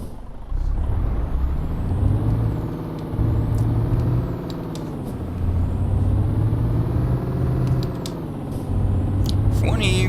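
Truck engine in Euro Truck Simulator 2 drones loudly and steadily, pitch rising and falling as it accelerates and eases off, with short hissing air-brake releases and a voice talking over it.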